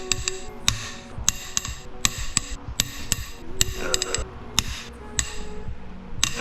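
Sharp metallic clanks and knocks in an irregular series as a breaker bar works loose stuck head bolts on a Nissan SR20 engine, close and fairly loud with no talking.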